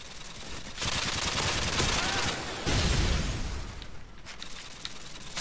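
Loud, sustained automatic gunfire in the video game Modern Warfare 2, with continuous bursts and rattling fire filling the whole stretch and a short dip near the end, dense and close.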